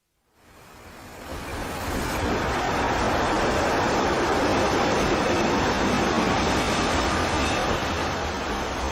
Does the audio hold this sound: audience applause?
no